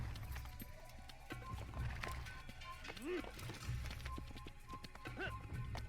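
Horse hooves galloping in Assassin's Creed, a quick repeating clip-clop rhythm running throughout with a horse whinny partway, while someone talks over it.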